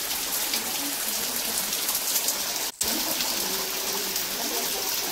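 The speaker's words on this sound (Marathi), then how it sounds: "पाऊस चालू झालेला आहे।" Steady rain falls in a village while a Malvani meal of vadas and crabs is cooked, a dense continuous hiss with one abrupt brief dropout near the middle.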